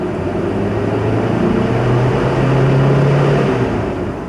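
A 2003 Toyota Kijang LGX 1.8 engine with manual transmission drones steadily in a low, continuous hum that swells slightly midway while the car is driven, with no talking.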